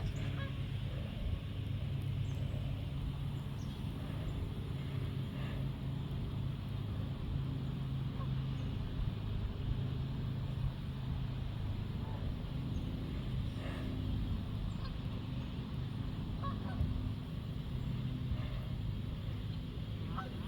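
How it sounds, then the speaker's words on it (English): Canada geese at a neighbourhood lake, where thousands of ducks and geese gather, give scattered faint honks over a low, steady rumble of distant background noise. "I heard the geese making sounds like they're getting ready to fly"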